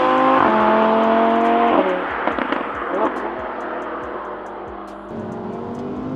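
An Audi R8 V10 plus engine roars loudly, then its note falls away into a run of sharp crackles and pops over a steady drone before picking up again, heard close with no talking.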